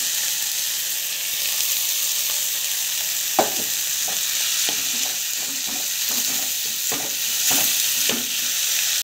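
Avalakki (flattened rice) with tomato and salt being stir-fried in a pan, a loud, steady sizzle and hiss broken by repeated scraping and tapping strokes of the spoon, with no talk.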